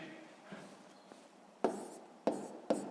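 A pen writing numbers by hand on paper for a fifth-grade long-division exercise: soft scratching strokes, then three sharp taps or short marks spaced about half a second apart, close and quiet.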